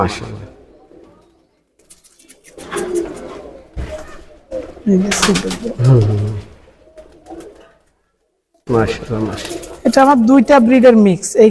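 Dabwala pigeons coo softly nearby in low, throaty bursts while people talk over them in intermittent stretches, with brief silent gaps between.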